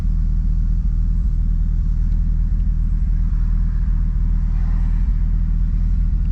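Chevrolet Camaro ZL1 1LE with its LT4 V8 idling on line lock, a deep, steady low rumble with a rapid pulsing throb, close and constant throughout with no talking.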